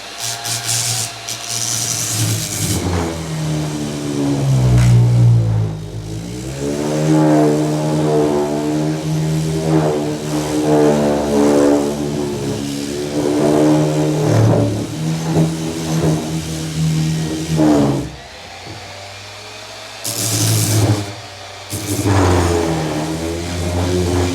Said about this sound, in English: We'll take it, we turn it on, and let's start smoothing it out.